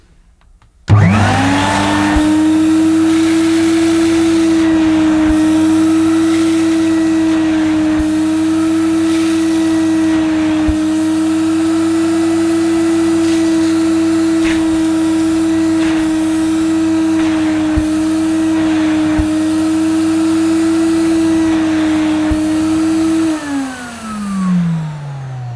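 A Hoover Aquajet S4488 multifunction vacuum cleaner switches on and sucks up mess from a carpet, a loud steady motor whine holding for over twenty seconds before winding down at the end.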